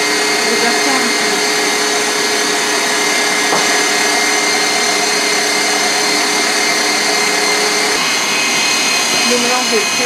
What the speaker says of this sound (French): Je vais bien mixer.